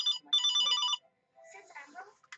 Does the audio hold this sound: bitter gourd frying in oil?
no